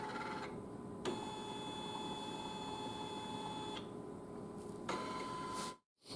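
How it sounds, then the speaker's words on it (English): A home embroidery machine traces the outline of a design, giving a steady close mechanical whir with faint tonal beeps and clicks, then stops briefly near the end. "now we hit trace and see if it'll run around"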